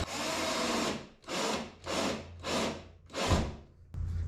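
A screw driven into the plastic hull of a Hobie Passport kayak, heard as five close, loud bursts of a power driver whirring with short pauses between them, ending on a final burst.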